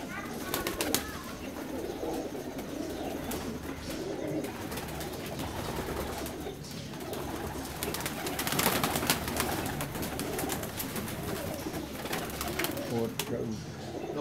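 Teddy pigeons coo in a loft, soft repeated rolling calls under a busy bed of other bird sounds and rustling, fairly close and continuous, with no clear talking.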